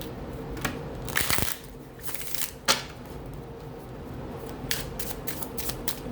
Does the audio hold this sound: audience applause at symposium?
no